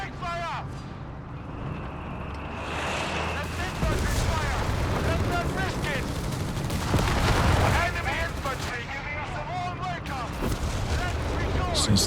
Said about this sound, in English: That V1 AT gun hiding around the corner though has got a nasty rate of fire.